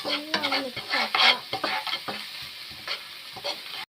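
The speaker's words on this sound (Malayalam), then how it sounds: "ഇഞ്ചിയും വെളുത്തുള്ളിയുടെയും ഒരു മണം പോകുന്നത് വരെ നമ്മളിതൊന്ന് മിക്സ് ആക്കി കൊടുക്കാം." Ginger and garlic sizzle in a frying pan while being stirred for a Kerala-style egg roast, a continuous close crackling fry broken by repeated scraping strokes of a spoon.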